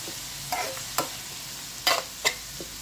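Grated tomatoes scraped and stirred in a frying pan, giving a few sharp, brief scraping strokes over a soft, steady sizzle close by.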